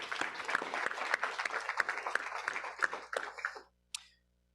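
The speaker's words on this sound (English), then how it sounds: "I'd like to give Nikki a big round of applause for being here with us" At a city council meeting, a room of people claps for a few seconds, a dense ripple of mixed hand claps that thins out and stops abruptly, followed by one short faint sound.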